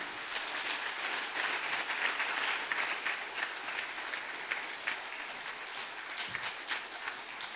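A large church congregation applauds steadily during a Thanksgiving Sunday service, a dense wash of clapping that continues evenly for several seconds, heard from a moderate distance.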